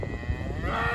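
Cattle on rotationally grazed pasture paddocks, a single cow giving one close, low, sustained moo that fills the whole moment.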